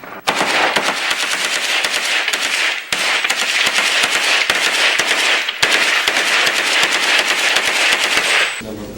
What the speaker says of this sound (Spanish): Estas imágenes muestran a los rebeldes disparando contra posiciones ucranianas afuera de dicha ciudad